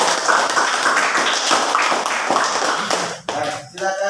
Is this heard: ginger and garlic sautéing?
no